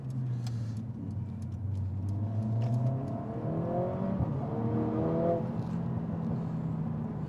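A car loaded with five occupants and a boot full of luggage accelerates steadily, its engine rising in pitch through gear changes as a sustained, fairly close drone with no talk.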